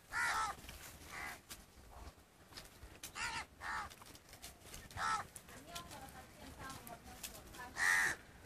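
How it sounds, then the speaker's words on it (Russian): Several harsh crow caws ring out in bursts as birds feed on food scraps in India, some near and some farther off, over a low outdoor background hum. "Утренний завтрак птиц."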